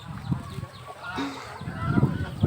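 Farmyard geese and chickens give short honks and clucks in bursts, fairly close, with a loud call near the end and some faint background voices.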